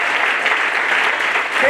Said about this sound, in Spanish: Denle un aplauso al Señor por la vida de mi hermano.